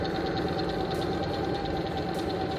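Sewing machine running a leather stitch on heavy fabric, a fast steady mechanical chatter of needle strokes close up, continuous and fairly loud.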